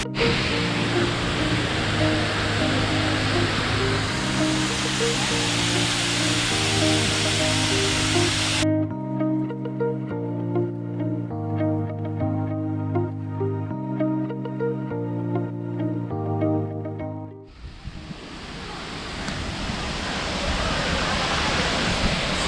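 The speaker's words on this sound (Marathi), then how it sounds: "मुंबईमध्ये एवढा जवळ कुठे एवढा जबरदस्त पाण्याचा आवाज, धबधब्याचा आवाज ऐकायला मिळेल असं वाटलंही नव्हतं" Overflow from Powai dam in Mumbai pours down as a waterfall, a loud steady roar of rushing water, broken for several seconds mid-way while tonal music plays, then returning strong.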